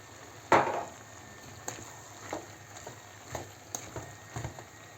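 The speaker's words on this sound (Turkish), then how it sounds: "Yağ ile beraber biraz iyice kavrulsun." Liver fries in oil in a pan: a soft, low sizzle runs underneath, broken by a sharp spatter near the start and scattered light crackles and pops throughout, with no talking.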